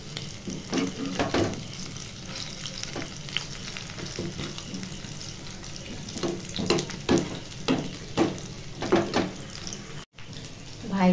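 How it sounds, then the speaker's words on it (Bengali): Rohu fish pieces and pumpkin flower fritters fry in hot oil with a steady sizzle, broken by scattered clinks and scrapes of stirring and a brief rush of running water. "রুই মাছ ভাজা আর কুমড়ো ফুলের বড়া করে নিচ্ছি"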